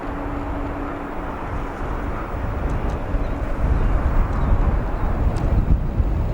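A Boeing 777 from San Francisco on the runway at O'Hare International Airport, a steady distant jet roar that swells slightly, mixed with wind buffeting on the microphone and a few faint clicks.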